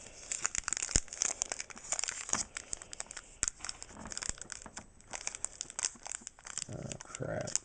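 Crinkling and tearing at the foil wrapper of an EX Team Rocket Returns Pokemon booster pack, a steady run of close crackles and rustles with some sharper rips, lasting several seconds.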